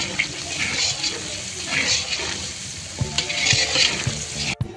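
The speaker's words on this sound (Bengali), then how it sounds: "কড়াইশুঁটি ভাজা হচ্ছে।" Green peas frying in a wok over a large cooking fire, a steady hiss and sizzle with scraping stirs, loud and close, alongside other pots at a festival cooking setup.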